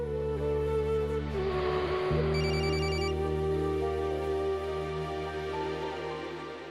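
A telephone rings with a repeating electronic ring tone that plays steadily and fairly loudly over a sustained musical background, with no talk during the ringing.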